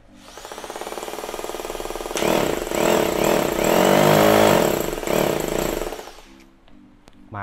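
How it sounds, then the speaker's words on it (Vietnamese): A Japanese 100V Bosch hammer drill in concrete mode hammers loudly and continuously for about six seconds. Its rapid rattling impacts sit over a rising motor roar, and it winds down near the end with a short restart. "Khoan bê tông nè."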